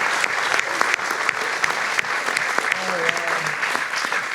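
Audience applause fills a comedy event, steady and dense throughout with sharp individual claps, and faint voices briefly audible beneath it.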